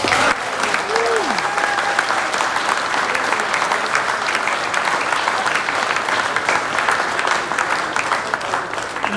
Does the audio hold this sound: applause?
yes